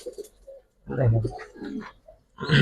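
A pair of small-beaked Giribaz pigeons coo in soft bursts up close, mixed with someone talking.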